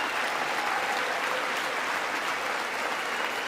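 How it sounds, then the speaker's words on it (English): Steady, dense applause from a large audience in a legislative chamber, sustained throughout with no break, loud and close, with no speech over it. "I guess we'll stand up and clap"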